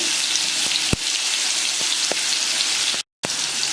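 Spinach and garlic sauté in hot oil over a low-to-medium flame, a continuous crackling sizzle broken by a few sharp utensil clicks and one brief drop-out near the end.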